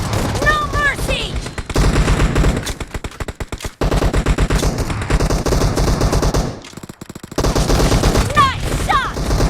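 Shots ring out in a shooting video game in loud, rapid bursts of automatic gunfire, with dense rattling volleys, a brief lull, then more shooting, under game voices and announcer calls.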